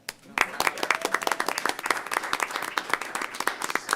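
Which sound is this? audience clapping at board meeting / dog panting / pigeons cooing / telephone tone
audience clapping at board meeting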